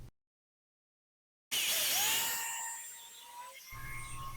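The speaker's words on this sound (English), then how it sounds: "it's time to use the doweling machine" A doweling machine boring 5/16 holes in walnut for a lounge chair, a near high-pitched whining spin that starts abruptly after a short silence and winds down, then low rumble follows.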